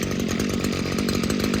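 A 2024 Stihl FS94R string trimmer engine runs close by, a loud, buzzing two-stroke snarl held at steady speed throughout.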